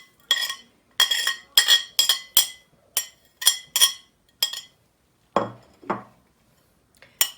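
Spices and ingredients for aloo paratha clinking into a metal or glass bowl, a series of sharp close clinks and taps in quick uneven bursts, followed by a couple of duller thuds near the end.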